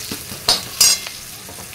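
Chilies sizzle in a hot pan while a spoon stirs them in a few quick scraping sweeps over a steady low frying hiss, close and moderately loud.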